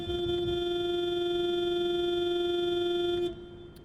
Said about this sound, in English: you can just point at it and it honks